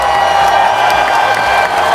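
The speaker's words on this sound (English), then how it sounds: "Give the Ooh Knights the big round of applause." A crowd claps and whoops in a short, dense burst of applause and cheering at an award moment, loud and close.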